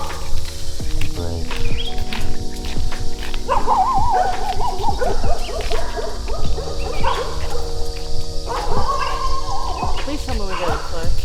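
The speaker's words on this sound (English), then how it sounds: "there's always soy dogs ready to bark at you, chase you." Street dogs on the coastal path near Kata Beach in Phuket bark and yelp in scattered bursts, close and fairly loud over steady insect chirring, with some whimpering between the barks.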